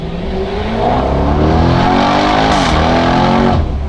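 A Jaguar Project 8's exhaust roars as the engine is revved hard beside a wall. The sound is loud, close and sustained, climbing and holding at high revs for about four seconds with no talk.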